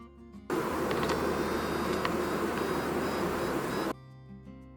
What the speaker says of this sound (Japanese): ピーピー鳴きながらこの巣箱は自分の巣箱であると領土宣言しています。